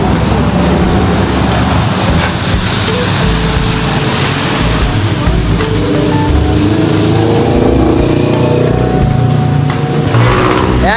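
A restored Suzuki X120 motorcycle engine runs nearby with a loud, continuous rough drone that stays steady and dense with no break throughout.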